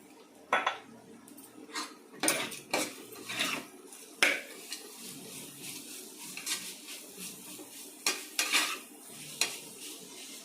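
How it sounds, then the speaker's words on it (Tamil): Ginger and garlic being sautéed for chicken biryani, a faint low sizzle under repeated sharp clinks and scrapes of a metal spoon against the pan at an irregular pace. "இஞ்சி பூண்டு நல்லா வதங்கணும்"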